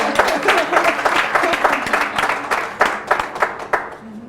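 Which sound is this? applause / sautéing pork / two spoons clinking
applause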